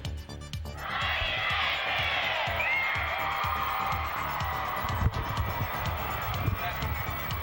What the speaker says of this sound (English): Good crowd on hand here at Findley Stadium.